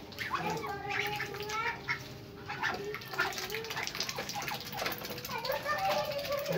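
Chickens and ducks crowd around a feed of processed banana stem, with busy quacking and clucking close by, while people talk over the commotion.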